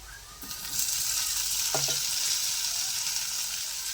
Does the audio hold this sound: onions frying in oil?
yes